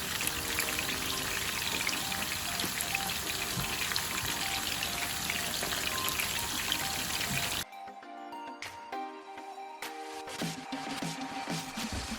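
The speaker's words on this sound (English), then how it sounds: "when you're frying the fish, before you put the fish into the oil is sizzling hot and it's ready for the fish" Ilish fish frying in sizzling hot oil, a steady dense crackle and hiss that carries on loudly before dropping to a quieter, patchier sizzle with scattered pops near the end.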